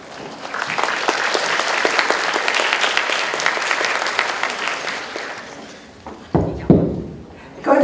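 At a university lecture hall event, a large audience breaks into sustained, dense applause welcoming the speakers, which swells for several seconds, then thins out into scattered claps, a few thumps and a voice.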